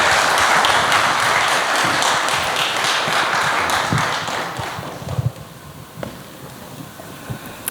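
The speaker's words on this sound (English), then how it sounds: "Warm round of applause, please, for our speaker" An audience applauds a speaker at a talk, a loud, dense wash of clapping that swells at first and then thins out and fades over the last few seconds.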